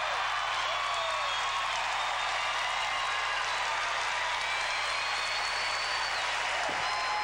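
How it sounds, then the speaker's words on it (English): A large arena crowd applauds and cheers steadily during a women's collegiate gymnastics championship floor exercise, a dense, even roar of clapping that holds at constant loudness throughout. "as the crowd roars for the Oregon State Beavers on the floor exercise"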